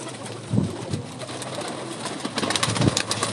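A female breeder pigeon, a hen that has been sitting on eggs, gives two clear low coos about two seconds apart, fairly close, amid light rustling and background hiss.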